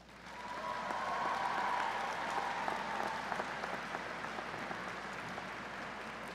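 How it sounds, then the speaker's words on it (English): Graduation ceremony audience applauds steadily, a dense wash of many hands clapping at moderate distance that swells and then gradually thins out. "Now's a good time to show your gratitude for their support with your applause"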